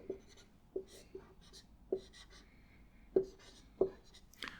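Chalk or marker strokes on a lecture board during a physics class, a series of short sharp taps and scrapes spaced irregularly, fairly close and clear with no talking.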